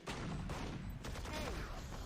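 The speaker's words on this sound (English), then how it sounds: "And the spray transfer good from Forsaken." Rapid automatic gunfire spray in the tactical shooter Valorant during a pro tournament match, a dense continuous burst of shots lasting about two seconds, loud and close with no clear talk over it.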